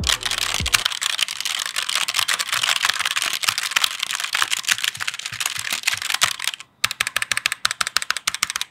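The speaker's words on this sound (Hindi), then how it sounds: "इस कीबोर्ड में रेड स्विच मिलता है, जिसका मतलब ये है कि बहुत ज्यादा नॉइज नहीं करेंगे।" An Amkette Katana Pro mechanical keyboard with red switches is typed on rapidly and continuously, giving dense, close clicky keystrokes with a brief pause before a final run of separate presses.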